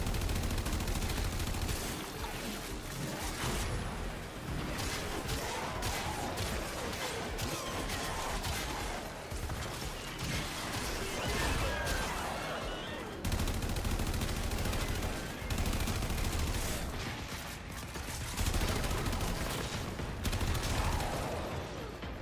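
Sustained video game gunfire, dense rapid bursts of shots rattling continuously at high loudness with brief gaps, fired from a favored non-shotgun weapon.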